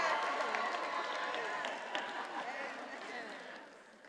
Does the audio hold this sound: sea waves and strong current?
no